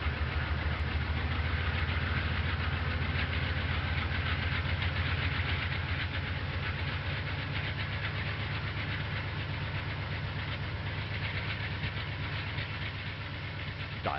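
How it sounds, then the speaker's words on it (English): An M.T.H. electric model train locomotive running on its track, a steady, continuous mechanical hum and rumble with faint rhythmic clicking, close and even in level throughout, with no speech. "Dial up a faster speed on the remote, and the locomotive will move at that speed."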